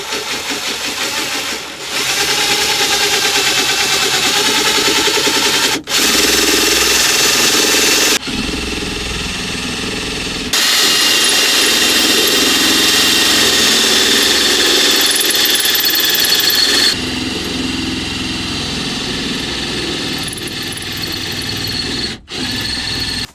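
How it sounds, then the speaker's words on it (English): A power drill bores holes in a steel shifter box plate, loud whining runs broken by several short pauses and restarts, the pitch and grind shifting as each hole is cut. "Just like that, the holes are drilled."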